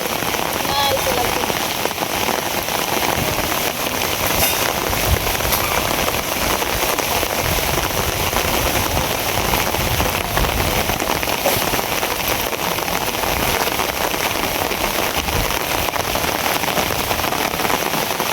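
Heavy rain pours steadily all morning onto surfaces outdoors, a dense unbroken hiss and patter that stays loud and even throughout.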